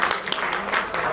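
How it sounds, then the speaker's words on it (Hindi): A brief burst of audience applause at a show launch honouring a singer, dense clapping from a crowd heard close and steady for about a second. "एक जोरदार ताली बजा दीजिए"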